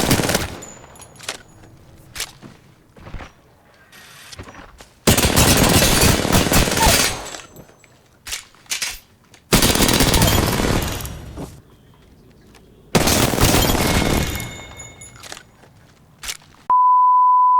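Gunfire in an Apex Legends match comes in three loud, dense bursts of rapid automatic fire separated by quieter gaps with scattered single shots, followed by a steady electronic beep at the end.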